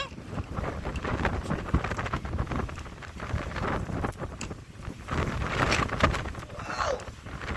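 Strong gust of wind, roughly 70 to 90 km/h, buffets the microphone in rough surging roars on a sandy shore, swelling and easing in uneven waves without pause.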